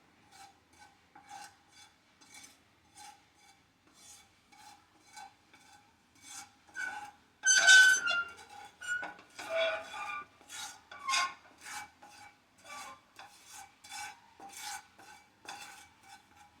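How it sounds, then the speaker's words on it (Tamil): A utensil scrapes and stirs a paneer pulao mixture in a cooking pan, giving a steady run of rhythmic scraping strokes that briefly grow louder and busier midway, with no talking. "இதை அப்படியே மிக்ஸ் பண்ணிவிடுங்க."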